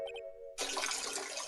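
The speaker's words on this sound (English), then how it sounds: "We heard the water splash, Ben. I think you had your mic on there." A short tonal sound gives way abruptly to a loud, close splash of water caught by a nearby microphone, which keeps sloshing evenly for about a second.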